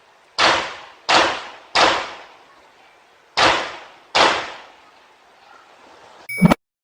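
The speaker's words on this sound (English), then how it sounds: "So there was a quick pause in the gunshots." Five sharp, loud gunshots with a brief pause after the third, each ringing out and decaying, followed by a short clattering burst at the end.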